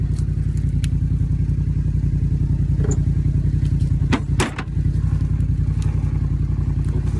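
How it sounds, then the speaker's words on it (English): An ATV engine idles and rumbles steadily up close as the machine backs up to a pit to dump a load of branches, a constant low throb with a few brief clanks and clatters over it. "So with the ATV, I can back right up in here and hopefully"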